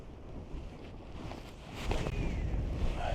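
Wind gusts buffet the microphone while kayak fishing on open water, a low rushing roar that swells louder midway and stays strong, with faint water lapping and no talking.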